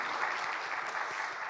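A church congregation applauding during a Sunday worship service, a dense and even wash of clapping that stays steady for the whole moment, with no voices over it.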